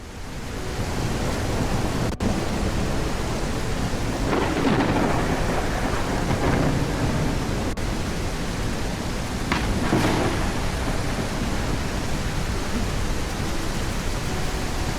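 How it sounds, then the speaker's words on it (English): Heavy rain pours steadily while thunder rolls and rumbles loudly overhead, with two big crashes swelling out of the downpour, in the video game The Isle. "a storm exploding overhead"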